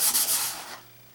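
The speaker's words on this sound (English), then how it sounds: "I'm going to sand this whole thing now" Sandpaper rubs across a fiberglass surface in several quick close strokes with a rhythmic scratchy rasp that fades to quiet.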